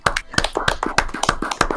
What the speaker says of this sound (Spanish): un aplauso por videollamada, a ver cómo sale esto